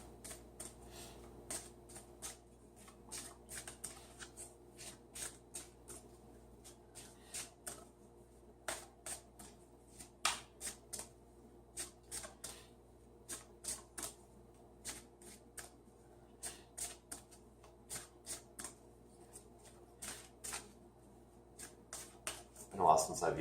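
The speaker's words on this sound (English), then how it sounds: "Been a while since I've used these cards, so I feel like they just really want to be shuffled in there" A deck of tarot cards is shuffled by hand in repeated bursts of crisp riffling and slapping, close and fairly quiet over a faint steady hum, with a brief snap near the end.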